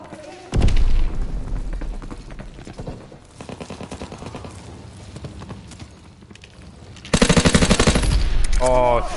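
A machine gun with a fast fire rate rattles in rapid bursts in Call of Duty: WWII, with a loud opening volley, quieter sustained fire in the middle and another loud burst near the end, where a voice speaks briefly.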